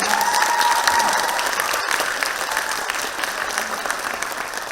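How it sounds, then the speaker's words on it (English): An audience at a poetry and spoken word showcase on renewable energy gives a sustained round of applause, steady and full throughout. "please, let's have another round of applause for Kenya"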